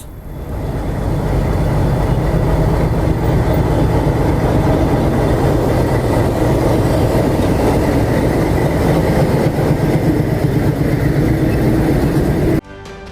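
A mountain railway train between Ooty and Ketti rumbles along the rails with steady clattering and a constant loud roar, then the noise abruptly drops at the end.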